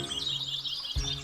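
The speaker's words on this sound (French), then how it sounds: "une famille d'oiseaux chantant ensemble" A family of birds chirps together in a forest, a brief bright flurry of tweets with a soft low thump near the end.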